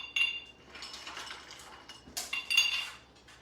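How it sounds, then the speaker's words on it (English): A few ice cubes drop into a glass for a mixed drink, giving light clinks and rattles in two small bursts, close and fairly quiet. "I'm going to add a few ice cubes in here"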